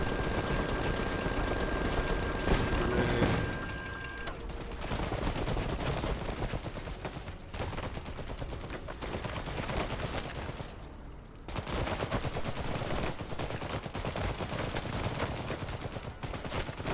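Sustained gunfire and machine-gun bursts from the real-time strategy game Iron Harvest, dense and continuous for the whole stretch with explosive bangs mixed in, loud and unbroken with no talk over it.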